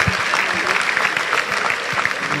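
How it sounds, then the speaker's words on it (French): A church congregation claps together in a dense, steady burst of applause filling the room, loud and sustained, with faint voices mixed underneath. "May we give a hand clap to the Lord."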